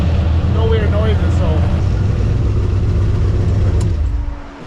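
A loud car engine idles steadily close by, a rough, continuous rumble on a car with a broken piston and a newly installed GFB boost controller, with a person talking briefly over it before the sound tapers at the end.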